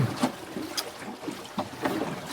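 A sailboat on a beam reach speeds across Tauranga Harbour, New Zealand, with steady rushing and splashing water, wind buffeting the microphone and periodic surges as the hull moves through small waves.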